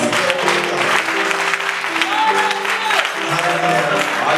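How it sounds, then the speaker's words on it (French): A church congregation at a Friday night prayer vigil applauding loudly in sustained, dense clapping, with voices and cheers mixed in throughout. "acclame encore très très fort pour ça"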